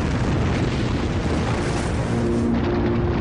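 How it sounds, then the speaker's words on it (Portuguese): An asteroid or comet explodes in the atmosphere with a loud, sustained roaring blast, broadband rumble filling the whole stretch with a deep low boom that never lets up. "essa pressão faz com que o asteroide ou cometa exploda"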